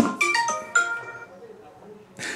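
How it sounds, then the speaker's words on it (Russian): A mobile phone ringtone plays in a melodic burst, fades to a softer tail, then resumes near the end, with a man's speech in the background. "У вас телефон. Ответьте, пожалуйста"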